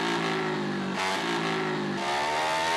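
A Yamaha Fazer 250 motorcycle engine revs hard and accelerates close by, its rising, steady drone filling the stretch with engine note climbing in pitch in stages.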